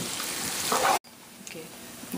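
Muthia dough sautéing in a pan until golden brown gives a steady, close sizzle with soft crackle, which cuts out briefly near the middle before resuming more quietly.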